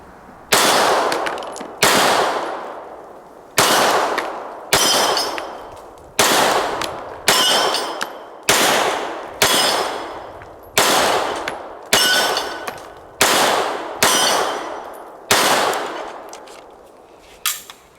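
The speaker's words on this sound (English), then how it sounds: "we've got this target, steel target, which is a lot of fun to shoot" Sig Sauer P320 9mm pistol fired at a steel target: about fourteen sharp, loud shots at a steady pace, roughly one every second or so, each followed by a short decaying ring from the struck steel.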